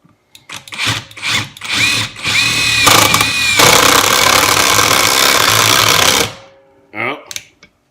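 Kimo 20V brushless impact driver driving a screw into wood without a pilot hole, loud and close: short whirring bursts, then a sustained rattling hammer of impacts for several seconds before a brief final spin.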